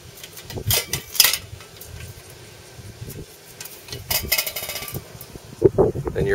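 Metal clinks and scrapes as an inner can is lifted from a burned-out, still-warm woodgas stove, scattered sharp taps and rattles among dull handling knocks, close up.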